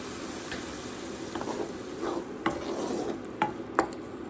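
Garlic and spring onions cooking in a little water in a pan for garlic rice, a soft bubbling sizzle with a spoon stirring and scraping in scattered taps, close by and fairly quiet.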